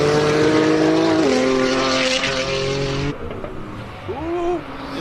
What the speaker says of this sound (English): stock standard RS3 sedan going up the hill